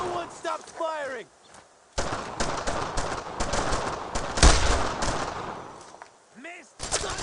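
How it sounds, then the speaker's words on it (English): Gunfire in the World War II shooter Brothers in Arms: Road to Hill 30, with dense bursts of shots from about two seconds onward and a loud blast near the middle, while shouting voices come in at the start and end. "No one stops firing!"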